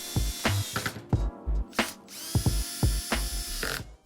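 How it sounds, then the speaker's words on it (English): A cordless drill with its torque turned down drives machine screws from above into a Murphy bed frame, giving short repeated whirring bursts separated by brief pauses, close and fairly loud with no talk. "turn the torque down on my drill, and tighten the machine screws from above"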